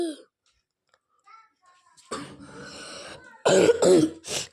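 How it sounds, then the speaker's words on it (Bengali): After a near-silent stretch, a close harsh throat clearing from a person with a cold is followed by a couple of loud coughs. "কাশি দিলাম,"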